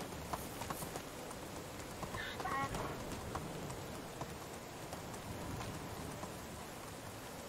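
Steady rain falls across a medieval village in the game Medieval Dynasty, a dense even hiss that runs throughout, with faint hoof-like clops and bird sounds mixed in.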